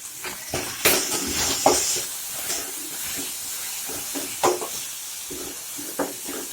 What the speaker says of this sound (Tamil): அந்த தக்காளியை போட்டு வதக்கலாம்